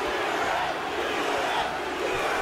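A dense arena crowd roars and chants in the UFC 3 fighting game, a loud, continuous wash of massed voices with no break.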